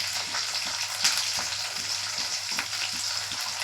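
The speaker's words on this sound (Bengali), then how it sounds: "বিনসটা আগে আমি ভেজে নেব ভালো করে," Green beans fry in oil in a wok with a dense, even sizzle, close and continuous, faint clicks of spattering oil underneath and no voices.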